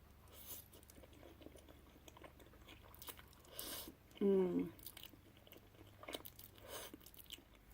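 Someone eats spicy Korean cheesy ramen topped with American cheese slices and stretchy shredded mozzarella, producing close, quiet chewing and slurping sounds, with one louder burst midway.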